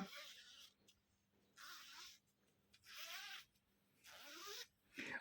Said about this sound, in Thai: ดูคุณภาพของซิปคุณภาพของซิปก็ค่อนข้างดีนะจ๊ะฟังเสียงนะครับ